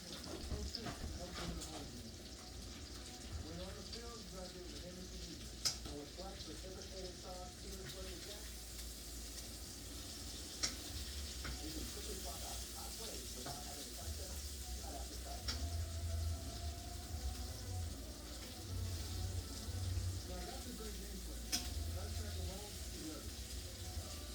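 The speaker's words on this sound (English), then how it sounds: "I'm cooking some bacon because you need bacon grease for this." Bacon frying in a pan, a low, steady crackling sizzle that runs throughout at low volume, with a person talking faintly and occasional small pops and clinks.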